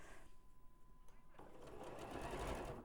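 A sewing machine stitching fabric starts faint and light, then swells into a steadier, louder whirring run of stitching for the last half of the short clip.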